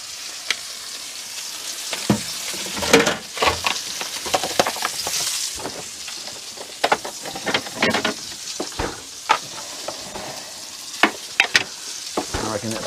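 Y-bone steak frying in a pan topped with ranch mayo, a steady close sizzle with intermittent crackles and pops, some louder spits, with no talking.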